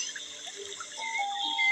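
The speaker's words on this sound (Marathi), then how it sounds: "फक्त हिला छान पाण्याने धुवून घ्यायची आहे" Soybean chunks rinsed with water in a home kitchen, a soft, steady trickle and splash that builds slightly toward the end, fairly close and with no voices.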